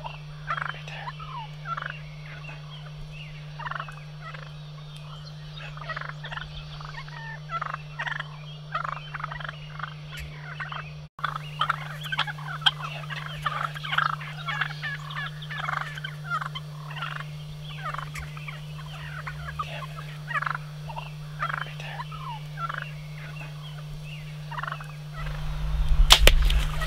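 A wild turkey gobbles in bursts near a decoy during a Canadian spring archery hunt, the calls fairly close and repeated over a steady low hum and quiet outdoor ambience, rising to a brief loud thump at the end.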